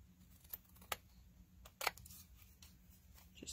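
Scissors snip along the edge of an acetate sheet for a handmade card, giving a few sharp, close crisp cuts and rustles spaced irregularly over a quiet background with a low steady hum.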